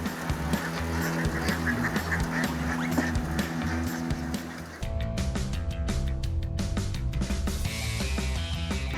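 A large flock of about 2,500 ducks quacks and honks in a dense, overlapping chorus, loud and close, with the sound shifting partway through amid background music.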